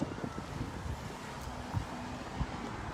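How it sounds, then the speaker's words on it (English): Soft wind rushes in the background, a low, steady hiss with a few muffled thumps as gusts hit the microphone. "Whoops. Whoa. It got windy."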